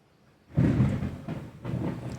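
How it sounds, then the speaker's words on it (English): Loud thunder booms in after a near-silent moment, then rolls on in rumbling waves that swell again toward the end. "the thunder's loud"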